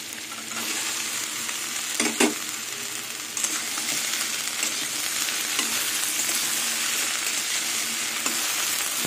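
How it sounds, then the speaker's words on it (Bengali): Okra and green chillies sizzle in a pan with onions and potatoes that are already fried, giving a steady close frying hiss. A few sharp clinks and stirring scrapes break in along the way, and nobody speaks. "এবার আমি ঢ্যাঁড়স আর কাঁচা লঙ্কা দিয়ে দেবো।"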